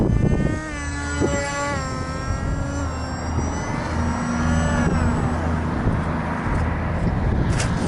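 An RCPowers Su-27 RC plane on a 2S setup with an 8 inch prop buzzes loudly through aerobatic passes, its motor whine rising and falling in pitch as it swoops nearer and farther, with steady wind and propeller noise throughout.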